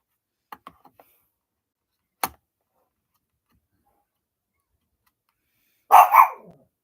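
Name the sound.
dog barking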